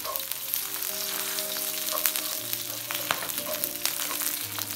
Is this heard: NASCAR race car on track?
no